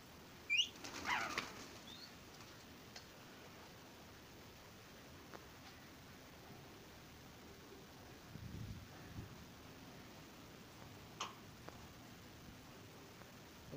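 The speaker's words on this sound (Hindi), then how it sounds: "तावे वाले कबूतर खोल दिए हैं" Released tumbler pigeons flap their wings outdoors, a faint whir that comes in short bursts, with a slightly stronger flutter near the start, over a quiet, windy background.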